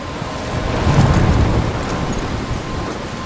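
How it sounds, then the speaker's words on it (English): Stormy weather in the video game Life is Strange, with steady rain hiss and a low rumbling thunder swell that peaks near the middle and fades, heard alone without talk. "I'm trapped in a storm?"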